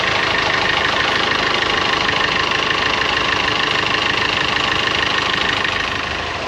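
A sailboat's inboard engine idling steadily while it is diagnosed for trouble, a continuous close, loud mechanical drone with a faint knocking rhythm, easing slightly at the end.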